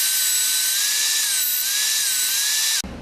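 A drill bores through an electric guitar body with a loud, steady high-pitched whine that holds nearly unchanged for almost three seconds before cutting off abruptly, heard up close with no talking.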